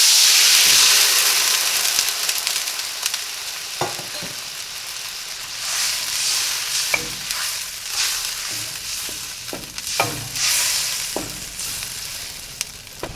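Soaked broken wheat sizzles and hisses steadily in a pan, with scattered scraping clicks of stirring breaking through the continuous frying noise, close by and with no speech.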